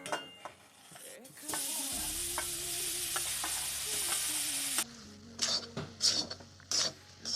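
Grated coconut frying in a hot pan for coconut laddoos, a faint sizzle with scraping and stirring of a spatula against the pan, followed by sharper clinks of utensils near the end.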